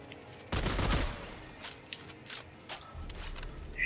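Gunfire in the video game Dead Space 3, a burst of shots followed by scattered sharper cracks and mechanical clicks, moderately loud within game ambience.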